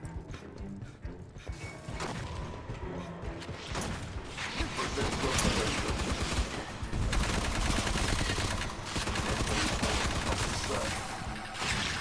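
Rapid gunfire from an accurate DMR rifle in the Aliens: Fireteam Elite video game, dense repeated shots with mechanical clatter building into a loud sustained stretch, while someone talks over it.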